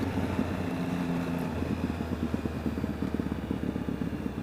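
A 2013 Triumph Speed Triple motorcycle engine runs steadily and loudly with a deep throbbing drone, joined by wind rush past the microphone during a test ride.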